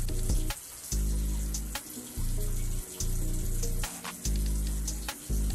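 A tap runs in short bursts to wet a Q-tip for cleaning with Dial soap, the water hissing loudly and stopping repeatedly in an uneven on-off rhythm.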